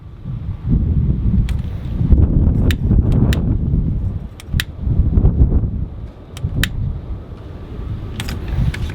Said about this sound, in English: Pardon the wind. It's a windy day out here.